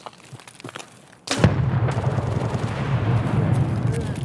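In Escape from Tarkov on the Customs map, a few distant gunshots pop before a grenade detonates with a loud, close blast, followed by a long rumbling tail.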